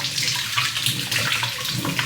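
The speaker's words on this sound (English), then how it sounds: "I'm gonna rinse it off just like the other one." Ninja Creami ice cream container rinsed under a running kitchen tap, a steady close splashing rush of water for a couple of seconds, no talking.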